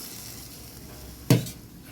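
Hot water splashes into a pan of homestyle chicken curry, setting off one sudden sharp hiss and sizzle that quickly fades back to a quiet simmer.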